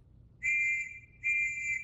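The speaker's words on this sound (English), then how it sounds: "we'll blow a whistle first to warn you so that you have time to take cover" A whistle blown as a warning of an incoming First World War artillery shell: two clear, shrill blasts, each about half a second long, separated by a short pause over a faint low background.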